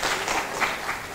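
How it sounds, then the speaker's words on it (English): Applause from a hackathon pitch and award ceremony audience, a short burst of dense, steady clapping heard on its own. "Applause"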